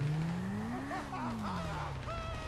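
A Hornet motorcycle in GTA V revs with a steady engine drone that climbs in pitch, then eases back down, loud and close, as the bike is ridden during a police chase.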